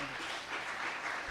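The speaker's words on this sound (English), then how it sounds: "Let's give Boris another round of applause" An audience claps steadily for a speaker after a talk, a dense, continuous round of applause filling the room at moderate loudness with no pauses.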